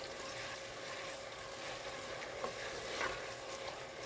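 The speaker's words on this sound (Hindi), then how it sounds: "चमचा हिला के मैं इसको अच्छी तरह से भूनूँगी" Achari gosht masala frying in ghee while a spoon stirs it, a steady close sizzle with soft scraping and a couple of brief clinks, no talk.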